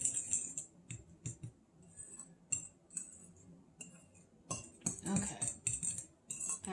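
Utensil stirring buffalo sauce in a bowl: quiet, irregular clinks and scrapes recurring in short bursts, close and soft.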